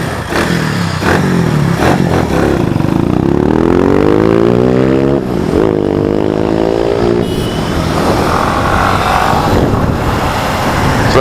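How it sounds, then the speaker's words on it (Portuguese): Motorcycle couriers accelerating through rainy traffic, engines revving loud and close with rising pitch sweeps, a steady wet road rush beneath. "Daí vem os motoboys acelerando aqui bem retardado da cabeça."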